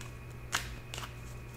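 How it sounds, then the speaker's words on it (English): Tarot cards being shuffled by hand, heard as two brief, soft riffling bursts close by over a quiet, steady hum. "let me get a good shuffle here"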